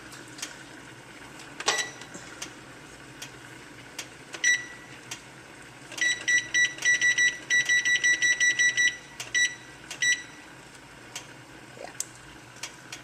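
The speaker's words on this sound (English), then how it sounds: "Let me put my timer on." A kitchen timer set while brown rice with black beans simmers under a lid gives a few scattered single beeps, then a quick run of rapid repeated bright beeps, loud and close, with faint kitchen background and no talk.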